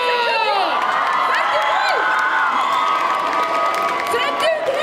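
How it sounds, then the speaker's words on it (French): Audience at a Sunday cosplay parade at a geek festival in Bordeaux, cheering and applauding the cosplayers, a loud, sustained roar of shouts, whoops and high-pitched cries over clapping throughout. "Et on les applaudit encore!"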